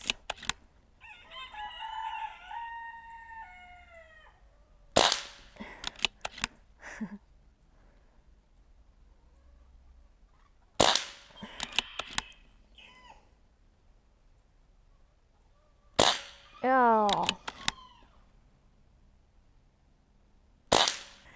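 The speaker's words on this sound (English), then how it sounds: "that was pretty good shooting" Several sharp cracks from a Barra 1100Z .22 air rifle fire in scattered bursts, each followed by short ringing or pinging impacts, with quiet pauses between shots and no talking.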